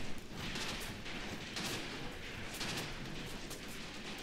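Close-combat gunfire in the war strategy game Graviteam Tactics, a steady distant crackle of mixed rifle and automatic fire with scattered heavier thumps, continuous and fairly faint throughout.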